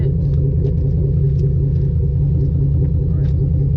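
Steady, loud low-end rumble from the LS4 5.3-liter V8 of a Chevrolet Monte Carlo SS with changed exhaust tips and a drop-in air filter, idling deep and continuous throughout.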